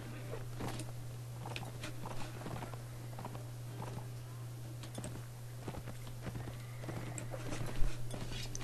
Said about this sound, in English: That's just a horse.